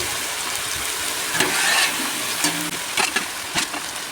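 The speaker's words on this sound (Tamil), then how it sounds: "இந்த வெங்காயத்து கூடயே கொஞ்சம் வதங்கிட்டே இருந்ததுன்னா கொஞ்சம் நல்லாயிருக்கும்." Sliced potato and eggplant fry with onions in a pan, giving a steady close hiss and sizzle with occasional scraping stirs throughout, and no voices.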